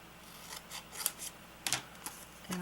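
Scissors cutting paper for a handmade junk journal, a handful of short, sharp snips spaced irregularly, close and fairly quiet, with no talking.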